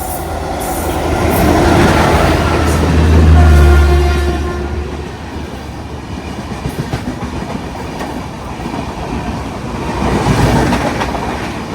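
A Vande Bharat express train passes close and loud, its rumble swelling and fading, then a long run of rhythmic wheel clatter over the rails.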